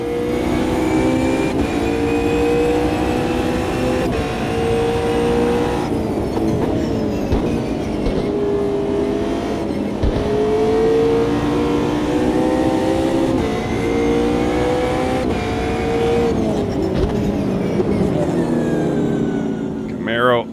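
A BMW M4 GT4 race car engine in the Automobilista 2 racing sim, revving loud and close, its pitch climbing and dropping through gear changes continuously.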